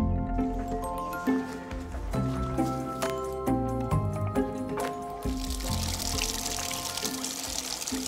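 Water pouring and splashing at a monastery washhouse during a children's bath, close liquid sounds with sloshing in bursts, accompanied by strong tonal ringing and a hissy wash toward the end.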